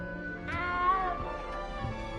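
Cat meowing in the video game Hogwarts Legacy, a single short rising-and-falling meow over a steady bed of game music and ambience.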